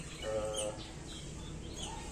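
Canaries chirping inside aviary cages, a cluster of short, high tweets near the start that then thins into faint scattered calls over a steady background hiss.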